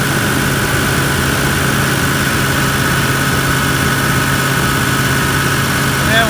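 The engine of a 79 Series Landcruiser holds steady at about 2000 RPM, a loud, even drone with no breaks in the noise.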